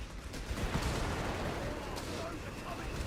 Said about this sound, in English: Bishop barrage onto the MG does a lot of damage to that 221 as well